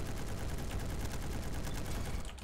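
Rapid DMR rifle fire in a video game rings out as a dense, continuous burst of loud shots with no pauses.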